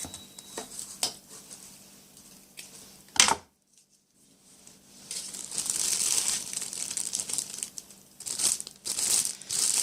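Plastic packaging for bath truffles crinkles and rustles close by as it is tied and sealed, in irregular bursts with a short quiet gap midway.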